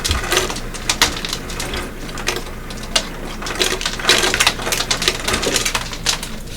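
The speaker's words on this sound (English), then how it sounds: "that was ice cubes hitting the floor" Ice cubes clatter and skitter across a hard floor, a dense run of sharp little clicks and knocks lasting several seconds.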